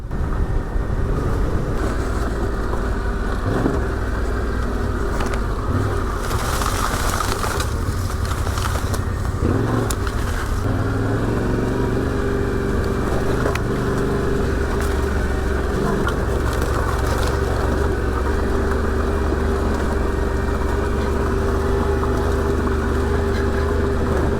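A Tenere adventure motorcycle ridden along a UK dirt trail and green lane, its engine droning steadily and loud throughout, with wind rumble and brief bursts of noise from the rough ground.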